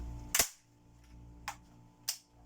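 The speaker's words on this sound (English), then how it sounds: "Fire off the action, safety catch back to safe." A Browning Longtrac rifle action is dry fired, giving a sharp, close mechanical snap followed by two lighter metallic clicks as the safety and action are worked, in an otherwise quiet room.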